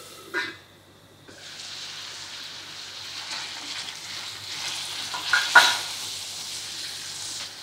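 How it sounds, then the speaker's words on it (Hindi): Vegetables for tempering sauté in a pan, a steady soft sizzle running throughout with a few louder stirring scrapes and clatters near the middle. "जब मैं टेम्परिंग के लिए सब्जियों को सॉटे कर रही हूँ"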